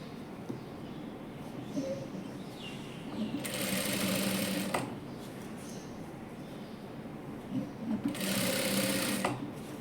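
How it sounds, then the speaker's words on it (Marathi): An electric sewing machine stitches elastic onto the waistband of palazzo pants in two loud, fast whirring runs of about a second each, with quieter handling sounds and a low hum in between. "तर असं खेचायचं आणि हा शिलाई मारून घ्यायचं"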